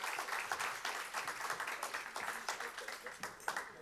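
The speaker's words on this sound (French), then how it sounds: "Oui, vous pouvez les applaudir" A conference audience applauds after a round table on purchasing power, a faint, steady patter of many hands clapping at a distance.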